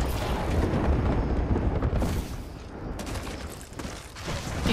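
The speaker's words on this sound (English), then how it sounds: "they're shooting at us" Gunfire in an Apex Legends match, dense overlapping shots and booming blasts rolling continuously at close range for the whole stretch, loud and busy with no clear gaps.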